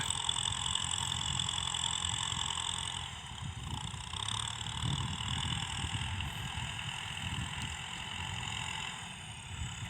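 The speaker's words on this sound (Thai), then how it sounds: "รถไถเริ่มออกทำงานได้แล้วครับวันนี้" An M6040 tractor engine runs steadily with a low rumbling drone and a whining tone while ridging a field, fairly close and continuous, with no speech.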